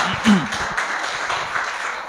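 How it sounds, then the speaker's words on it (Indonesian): Church congregation clapping and applauding together during a worship service, a broad steady patter of many hands filling the room, with a voice speaking at the start. "Tepuk tangan dulu yang meriah bagi Tuhan kita."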